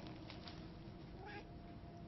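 A soft cat meow from the video game Murdered: Soul Suspect, brief and high, heard faintly over a low, steady background hum.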